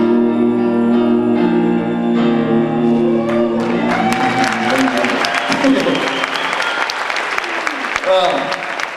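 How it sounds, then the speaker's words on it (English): Dinner audience at a Wylie school event breaking into loud, sustained applause with cheering and whoops, rising after a sung school anthem fades out. "Give Luke a round of applause, ladies and gentlemen, and bow."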